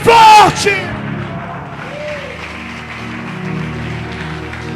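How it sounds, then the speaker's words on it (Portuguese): Loud cheering and applause from a church congregation during a Friday preaching service: an opening shout, then a steady, sustained roar of crowd noise. "Só quem é provocador de milagres, aplauda Jesus bem forte."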